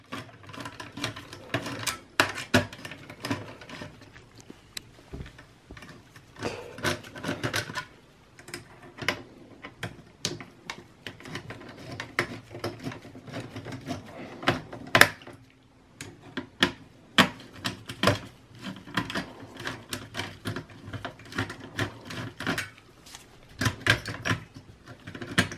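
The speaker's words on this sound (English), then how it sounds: "you're gonna use a Phillips screwdriver. There'll be two screws in the top, two in the bottom to remove the heatsink." A Phillips screwdriver takes out the heatsink screws on a Dell Optiplex 5040 desktop, giving scattered small clicks, ticks and metallic taps at close range with irregular pauses.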